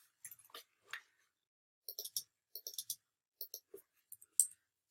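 Computer keys clack in short bursts of quick, light taps separated by brief pauses, close and quiet in an otherwise silent room, as gibberish is typed into an HTML document.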